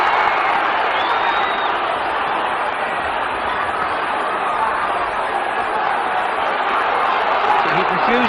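A boxing crowd at the Chris Eubank vs Michael Watson rematch roars in a steady, dense wall of cheering and chatter, loud and continuous throughout with no break, a commentator's voice faintly mixed underneath.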